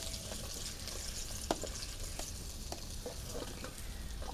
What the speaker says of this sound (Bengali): ভালো করে এবারে আমি মাছটা দিয়ে দেবো। ভালো করে কড়া করে ভেজে নেবো।